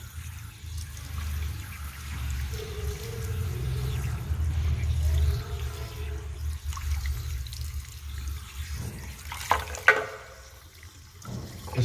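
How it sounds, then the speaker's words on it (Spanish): Warm running water pours steadily while hair is rinsed in a salon, mostly a low, even wash with scattered splashes and a brief sharper burst near the end. "voy a empezar a enjuagar. Entonces la agua tiene que estar muy caliente o así tibia."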